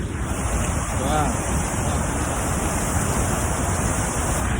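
Huka Falls near Taupo, New Zealand, rushes in a steady, loud, broadband roar with some wind buffeting, while a person briefly exclaims over it.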